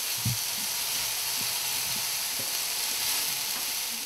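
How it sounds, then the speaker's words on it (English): Aubergines brown in a hot pan with a constant, close sizzle and hiss, broken by soft low thumps and stirring knocks. "we need to brown the aubergines"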